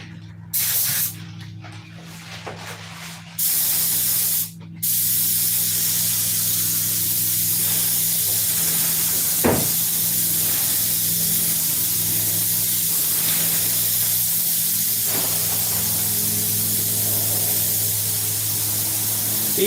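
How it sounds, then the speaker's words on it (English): An airbrush spraying paint gives a steady, close hiss that runs almost unbroken, with a few brief stops near the start and a low hum underneath. "So you can use this as an airbrush. I mean, I'm just barely putting any paint on it."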